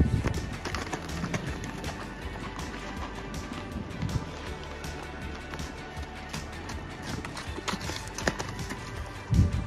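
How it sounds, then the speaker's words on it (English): Horses walk on a farm, their hooves clip-clopping in a steady, irregular patter at close range, with faint background noise and no clear talk. "I finished riding Phoebe, and now I'm gonna go and get Tucker and Culver from the pasture."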